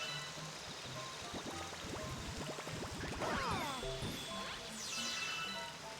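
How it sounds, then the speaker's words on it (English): Steady rain falls in a Super Mario Galaxy level, a continuous patter with scattered crisp clicks and splashes underneath other game sounds. "that's because it's raining"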